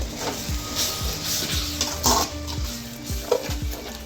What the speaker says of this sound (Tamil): இப்போ தயிர் அதில் ஊற்றிடுங்க